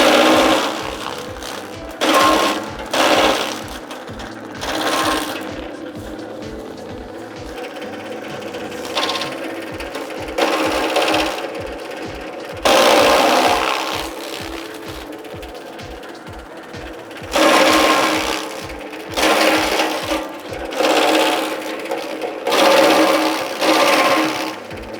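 A chaff cutter runs and chops stalks, with fast rhythmic mechanical clattering and bursts of loud grinding as material feeds through, close and loud, with no talking.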